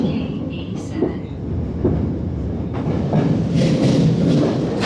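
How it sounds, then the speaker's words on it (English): An underground metro train pulls into a station in Japan, a steady loud rumble of rolling wheels and motors with brief clunks and rising hiss as it arrives, a few words spoken over it. "Train is here."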